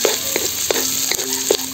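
Ginger and garlic sizzle steadily in a hot frying pan, with a few sharp scrapes and stirs cutting through the continuous frying hiss.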